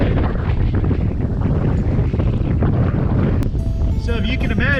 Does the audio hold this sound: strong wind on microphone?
yes